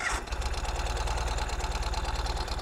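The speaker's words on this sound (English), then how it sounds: "So I'm gonna power up the Ural here, and we're in neutral, so I'm just gonna start it up." Ural motorcycle engine starting in neutral and then idling, a loud, close, steady low thumping pulse that runs evenly throughout with no talk.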